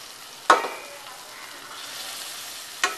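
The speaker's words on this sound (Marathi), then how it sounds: "आता आपण दुसऱ्या बाजूने सुद्धा व्यवस्थित फ्राय करून घेऊया" Shark fish fries in a pan with a soft, steady sizzle, broken by two sharp clicks of the pan or utensil, one early and one near the end, with no voices.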